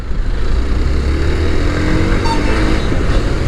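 A 2020 Hero Xpulse 200 BS6 motorcycle hums steadily on a test road, its engine drone and wind rush loud and constant with no talking.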